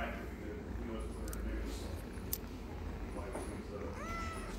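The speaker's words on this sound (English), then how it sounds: "Here is the other cats" Young kittens, only two to four weeks old, meowing at a humane society shelter, faint and intermittent over a steady background murmur of people talking.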